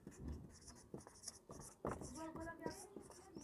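Pen writing out a maths solution, quick scratchy strokes and taps under a teacher's ongoing spoken explanation.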